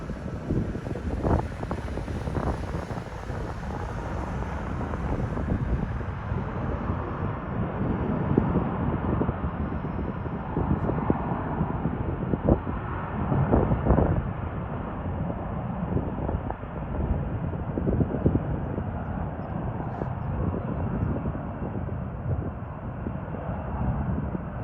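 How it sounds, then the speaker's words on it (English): Engines of an enormous airplane near a British military base in Cyprus give a steady broad rumbling roar with wind buffeting the microphone, holding strong throughout without speech. "I can hear the roar of engines now"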